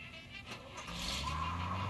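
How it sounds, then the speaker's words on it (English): Truck engine revving up as it pulls away in the Sam & Max adventure game, a rising rumble that grows louder and steadier after a brief clatter. "He's getting away in that truck."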